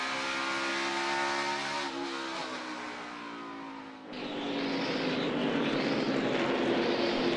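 NASCAR race cars, Kevin Harvick's among them, roar around ISM Raceway in a sustained loud engine drone, with one car's pitch dropping as it passes before another rises and warbles through the corner.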